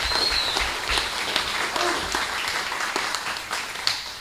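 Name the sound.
applause at a city council meeting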